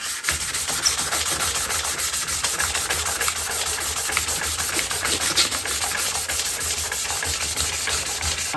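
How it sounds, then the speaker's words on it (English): Wet sanding of a car headlight lens by hand with 1000 grit sandpaper, a steady close rubbing and scraping that keeps on without a break, with no talking. "1000 grit. Wet sand as well for this."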